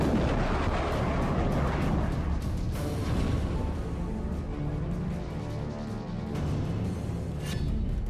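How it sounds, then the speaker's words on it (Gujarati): Artillery fire and explosions from Russian bombing in Ukraine make a continuous barrage of heavy booms and crackling blasts, some sharp and close, others rumbling, with no pause over several seconds. "મિસાઇલોથી હુમલો, બોમ્બનો વરસાદ"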